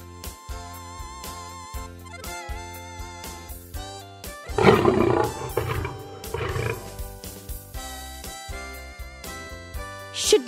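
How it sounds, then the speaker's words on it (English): A lion lets out one deep, rumbling, drawn-out roar near the middle, loud and close, heard over steady background music. "Lion."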